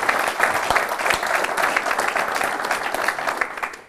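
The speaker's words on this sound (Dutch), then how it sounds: "Ik durf te wedden dat het publiek vanavond ook nog wel een applaus daarvoor over heeft." An evening studio audience claps together in sustained applause, a dense even patter that holds steady for several seconds before tapering off at the end.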